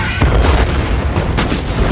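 Fuel drums set off by welding sparks at night erupt in a loud, rumbling blast, with a dense roar and a second burst of crackle near the end.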